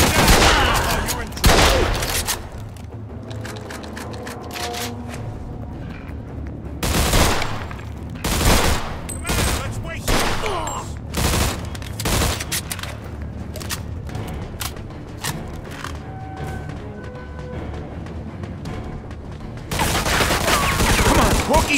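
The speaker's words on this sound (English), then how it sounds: "They're shooting at me, for Christ's sake!" Bursts of gunfire fill a Mafia II Definitive Edition shootout, with rapid volleys and single loud shots cracking close by, trading back and forth through the whole scene without any talk.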